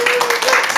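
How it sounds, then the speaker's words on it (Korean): Brief burst of audience applause in a Korean senior recreation show about traditional games, dense, close clapping filling the whole moment with faint voices mixed in. "지키님께 박수"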